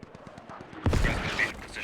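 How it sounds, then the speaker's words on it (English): In the video game Squad, irregular militia mortars hit the outside of an underground fortress, ending sparse rhythmic thumps with a heavy, rumbling blast, followed by a rolling echo. "mortars coming in. These are irregular militia mortars."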